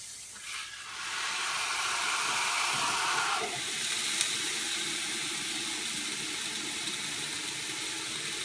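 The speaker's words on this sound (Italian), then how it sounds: "Il vapore che si sprigiona" Steam hisses loudly and steadily as a soaked paper towel sits on a hot Golden Malted waffle iron, rising after a brief quieter start and continuing close by with no talk.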